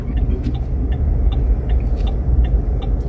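Cars and trucks pass in heavy winter traffic on a snowy Canadian road, a loud, continuous low engine rumble with tire hiss and occasional brief higher clicks.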